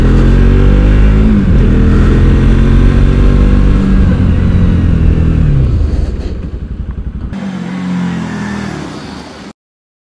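A single-channel ABS motorcycle accelerates hard for a brake test, its engine loud and close, then revs drop as it slows, with rumbling and road noise before cutting off.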